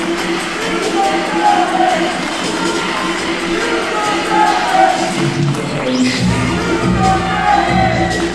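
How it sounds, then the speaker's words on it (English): A crowd at a wrestling arena during a heavyweight championship match keeps up a steady, dense roar of cheering and shouting throughout. A voice talks faintly over the din. "Listen to this crowd."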